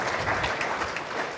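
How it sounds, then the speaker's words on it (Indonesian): A church congregation at a worship service breaks into lively, sustained applause, a thick, even patter of many hands clapping together. "Yang mau berikan tepuk tangan meriah buat Tuhan kita."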